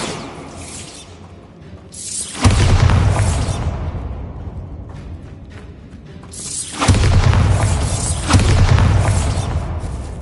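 Two loud, close magical blasts from the Bombarda spell go off several seconds apart, each a heavy boom with a crackling, shattering tail that slowly fades before the next one hits.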